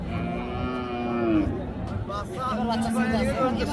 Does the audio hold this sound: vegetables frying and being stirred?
no